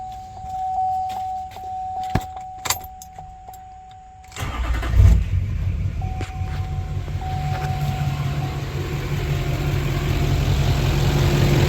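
An LBZ Duramax diesel engine cranks and fires after a fuel filter change, catching into a loud, steady idle that rumbles on close by; quiet clicks and clatter come before the start.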